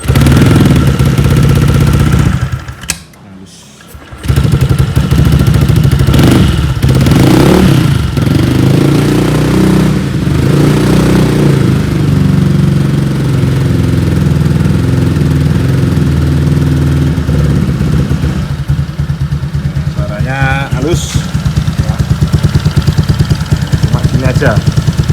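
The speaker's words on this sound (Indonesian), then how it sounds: "Sektor mesin suaranya ya ada sedikit perubahan" A modified Honda Vario 192 cc four-valve scooter engine idles steadily and loudly up close in a warehouse, with a brief dip in the sound early on and a light mechanical clatter throughout.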